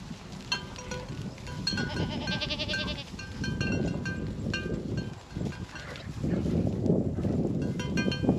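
A herd of big-bodied BT does and doelings bleats loudly and repeatedly, overlapping calls of many goats close by, with faint clanking and shuffling as they move in together, no talk.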